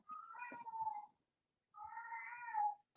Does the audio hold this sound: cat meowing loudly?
yes